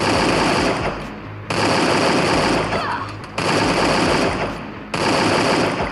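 AK rifle fire in the Garena Free Fire game, loud close automatic bursts of about a second and a half each with brief gaps between.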